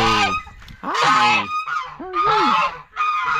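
Crossbred farm geese honk loudly and close by in repeated bursts, several harsh rising-and-falling calls separated by short pauses, with no talk over them.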